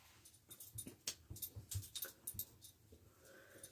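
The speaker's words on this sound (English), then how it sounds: "That's my dog in here playing." A dog playing indoors with toys nearby, giving soft panting, snuffling and small whimpering sounds in irregular bursts, fairly quiet and close.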